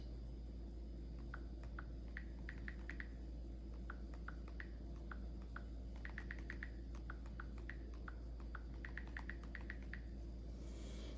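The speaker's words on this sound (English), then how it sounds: "So I'm going to type out my children's names" Fingers tap names out on a tablet screen, soft irregular clusters of light taps in short bursts over a steady low hum, faint and close.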